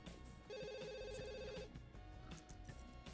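A telephone rings in The Sims 2 video game, a bright electronic trill with a sustained ring burst in the middle, set over game music and background sound.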